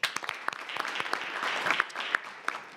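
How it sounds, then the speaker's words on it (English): A short round of applause at a community redevelopment agency meeting, dense clapping from a crowd that rises and then tails off, moderately distant. "Let's give him a round of applause."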